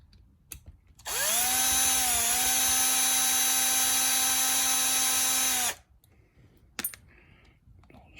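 A power drill backs screws out during a locker install on a Ford F450. One close, loud whine holds steady for about four and a half seconds, then a few faint clicks and knocks follow.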